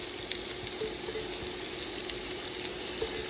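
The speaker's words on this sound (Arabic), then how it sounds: "الزيت سخنت، انزل عندي بصلايه حمراء." Red onion frying in hot oil, a steady low sizzle with faint crackles running continuously and quietly throughout, with no voices.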